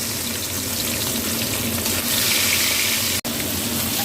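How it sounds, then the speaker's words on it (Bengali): Fish sizzle in hot oil in a pan, a steady dense crackling hiss that holds for several seconds with a faint stirring or scraping texture underneath and no voices. "এবার মাছগুলো ভেজে নেব।"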